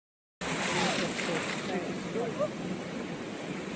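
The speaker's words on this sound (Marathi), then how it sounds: "हा समुद्र आणि उसळत्या लाटांचं सौंदर्य" Sea waves surge and wash continuously on a beach along the Konkan coast, a loud broadband roar mixed with wind buffeting the microphone, beginning abruptly after a brief silence.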